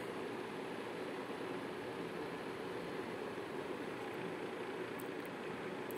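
Heavy rain pours steadily in a continuous dense broadband hiss with no pauses, loud and close, with no voices over it.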